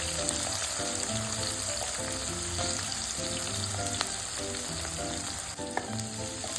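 Chopped green chillies and a medium onion fry in hot oil, giving a steady, close sizzle that runs throughout with faint stirring clicks and no voices.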